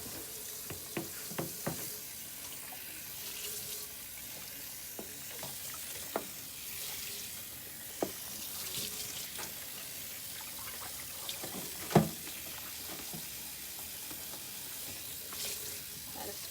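A cutting board is scrubbed under a running kitchen tap, a continuous water hiss with sharp brushing and knocking strokes, including a louder clunk near the end, with no speech.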